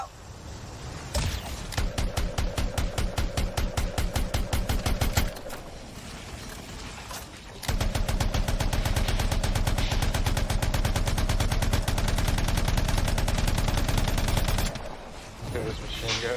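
Rapid machine-gun bursts in the video game Anthem, loud and close, one sustained volley then a longer continuous stream after a brief pause, with a voice talking over parts of it.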